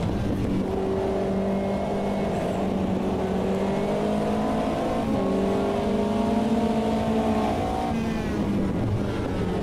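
Race car engines in a racing video game: continuous high revving drones with rising and falling pitch as cars run side by side, steady and fairly loud throughout.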